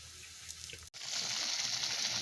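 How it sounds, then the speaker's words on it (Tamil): Water pours into a cooking pan while rava kichadi is made, a steady close gushing splash that starts after a brief silent break and continues to the end, with no talking. "தண்ணி விட்டுட்டேன்."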